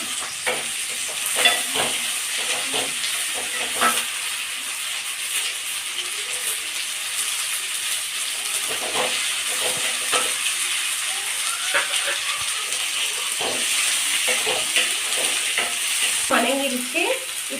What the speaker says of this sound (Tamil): இப்போ நம்ம ரெண்டு தக்காளி கட் பண்ணதை இதில் சேர்த்திடலாம்